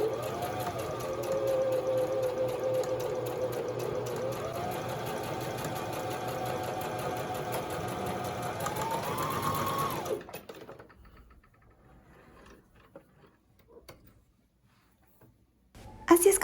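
Electric sewing machine running a backstitch seam along a straight practice line, a steady close mechanical whir with shifting pitch for about ten seconds, then stopping into near silence before a brief clatter at the end.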